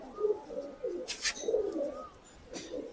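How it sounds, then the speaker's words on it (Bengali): White domestic pigeons of the Malbai breed cooing in soft, low, rolling phrases, a few repeated coos close by but quiet, with a brief rustle or flutter in between. "এটা আরো খুব সুন্দর লাগে আমাদের, ফিট সাদা পায়রা আমাদের"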